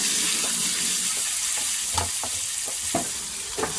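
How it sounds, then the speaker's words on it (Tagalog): Ground meat, a kilo of it for lasagna, sautéing in a pan with a steady broadband sizzle and a few scraping stirs of a utensil, close and fairly loud throughout. "Ginigisa na nating maigi ang ating giniling."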